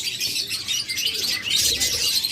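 Caged pet budgerigars and lovebirds at a market, bright chirps and tweets overlapping continuously, close and fairly loud.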